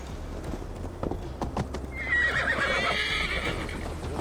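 Horses in Assassin's Creed Valhalla, hooves clopping in a steady trot, then a loud, drawn-out neigh rising over the hoofbeats, near and clear.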